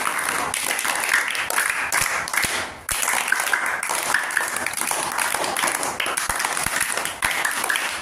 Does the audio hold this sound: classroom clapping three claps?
yes